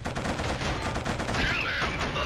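Rapid automatic gunfire from the Killzone video game, dense bursts of shots crackling continuously at close range.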